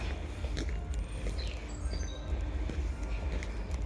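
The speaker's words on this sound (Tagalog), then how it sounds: "mga huni ng ibon," Small birds chirp and tweet in scattered short calls along a hillside path leading up to a chapel, faint and distant over a low outdoor rumble, with occasional footstep-like rustles.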